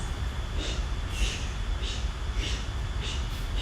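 Several forceful yoga breaths pushed out through the mouth in a steady rhythm, about five rapid exhales over a low constant background hum.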